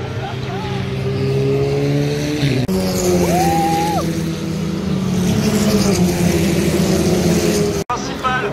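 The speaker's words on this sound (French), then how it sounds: "on voyait les voitures qui passaient" Race cars at the GP Explorer event sweep through the Chapelle corner, giving a loud, continuous engine roar with shifting pitch as the cars pass close by. Faint background voices may sit under the engine noise.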